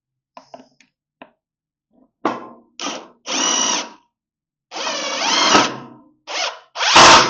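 Cordless power drill driving screws into wood on a trailer, a series of short whirring bursts of one to two seconds each separated by silences, close and loud, with small clicks before the bursts.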